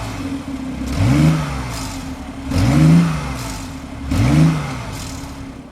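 A 369 bhp BMW i8 in Frozen Edition trim, its engine revved three times in steady succession, each blip rising and falling sharply over a low idle, close and loud with no voices.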